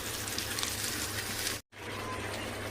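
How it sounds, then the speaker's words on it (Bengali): Dhoka and potatoes frying in a pan give a dense, steady sizzle that cuts out briefly and then resumes just as strong, with no talking. "ধোকাটা আলুটা দিয়ে একটু কষিয়ে নিচ্ছি"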